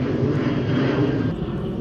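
A fixed-wing airplane flies overhead, its broad engine roar steady and fairly loud before easing slightly near the end, with no talking over it.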